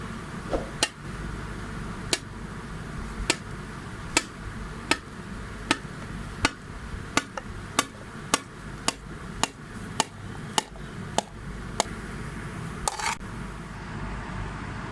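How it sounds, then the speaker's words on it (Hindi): A knife chopping fruit into small pieces for a custard fruit trifle, about twenty sharp close taps on a cutting board at a fairly regular pace over a low steady background hum. "सबसे पहले फ्रूट्स को छोटा छोटा काट लेते हैं डिश आउट करने के लिए।"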